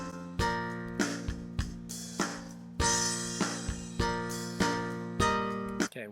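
A worship arrangement of the hymn When I Survey the Wondrous Cross plays back transposed up to F, with strong rhythmic chords and drum hits recurring about every half second, loud and unaccompanied by talk.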